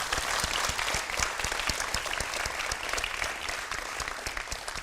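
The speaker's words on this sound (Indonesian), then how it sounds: "Shirley Anavita, tepuk tangan." An audience applauds steadily for about five seconds at a televised presidential candidate debate, dense clapping with sharp individual claps standing out, fairly close and sustained without talk.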